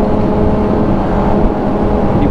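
A 2021 Yamaha MT-09 SP motorcycle, still being broken in, rides along with a group, giving a steady, loud engine and road drone with no break.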